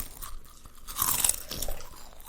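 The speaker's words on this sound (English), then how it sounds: "Here's the sound of Marla stuffing her face." Someone chewing crunchy chips close to the mic, a quiet run of crisp crunches and mouth sounds with no talking.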